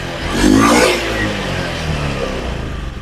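A Honda Beat FI scooter engine with the check-engine light fault is revved once, rising to a short loud burst and settling back into a steady idle close by, with no voices.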